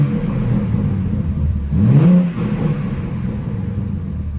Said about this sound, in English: Give y'all a few revs before we dip.